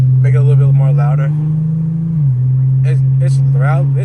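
A steady low exhaust drone from an Infiniti G35 under way, with a brief rise in pitch as it revs, while someone talks over it throughout.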